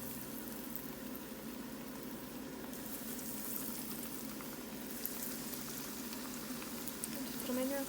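Hot frying oil bubbles steadily around a wooden spoon pushed into a cast iron skillet, ready for Southern fried pickles; a continuous, close sizzling hiss that holds evenly throughout.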